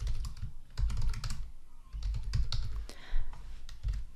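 Keys clatter on a computer keyboard as a name is typed in quick bursts, with short pauses between runs of keystrokes, close and fairly quiet.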